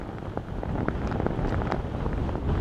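Strong wind buffets the microphone outdoors at a temple in Taiwan in a steady, roaring rush, with low rumbling gusts throughout and no clear speech.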